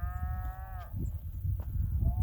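Cattle in ranch country let out a long, loud, low moo up close, with another moo starting at the end over a rumbling outdoor background.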